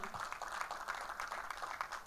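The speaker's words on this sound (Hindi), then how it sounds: "एक बार जोरदार तालियां हो जाएं" Audience at a film trailer launch event clapping, a continuous medium-loud patter of many hands without break, with no speech over it.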